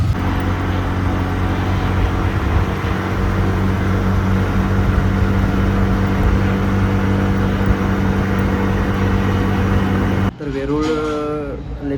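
An auto rickshaw ride with a steady, loud engine drone and road noise throughout, cutting off near the end where a voice speaks briefly.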